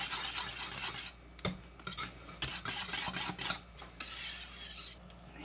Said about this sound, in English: I will switch back to my whisk to help smooth things out a little bit